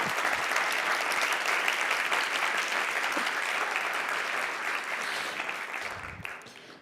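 Conference audience applauding between speakers at an open mic education event, a full, steady burst of many hands clapping that gradually thins and fades near the end.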